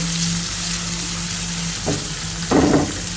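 Shrimp frying in a pan make a loud, continuous sizzle up close, with a couple of brief scraping bursts of stirring near the end.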